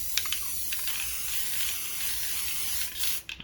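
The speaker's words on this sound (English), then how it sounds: "small little spray there" Short hissing bursts from an aerosol spray paint can on a piece of spray art, a few quick sprays close up with small clicks between them.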